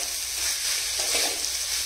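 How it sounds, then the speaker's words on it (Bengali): Khichuri sautéing with spices in a hot pan gives a steady, close sizzle and crackle of frying, with faint stirring and no voices. "একটুখানি কষিয়ে নিই মশলার সাথে।"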